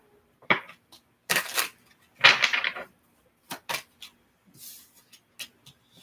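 A deck of tarot cards being shuffled up close, with several separate riffling bursts of card noise and short taps between them. No voices are heard.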